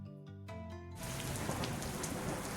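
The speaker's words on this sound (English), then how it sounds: "Epic thunder and rain audio." Loud, steady downpour of rain with a low thunder rumble starts abruptly and continues evenly without speech, preceded by a brief moment of music.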